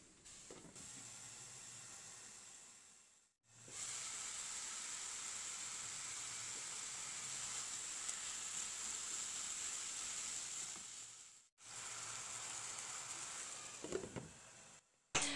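Food fries in a covered pan on medium heat with a steady, soft, high hiss of sizzling that drops out twice for a moment before resuming, with faint clinks near the end.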